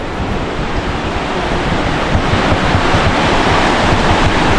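The Tungabhadra river at Hampi gives a steady, loud broadband rush of moving water, mixed with wind buffeting the microphone and constant throughout.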